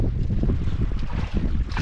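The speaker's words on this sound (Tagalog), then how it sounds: "Grabe ng hangin na god." Strong wind buffets the microphone on a fishing boat at sea, a loud, continuous rumbling roar.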